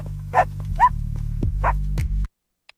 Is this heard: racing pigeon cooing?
no